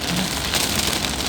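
Heavy rain pouring at KM 15 on the road toward Jakarta, a dense steady hiss of drops drumming on surfaces, loud and close, unbroken for the whole stretch.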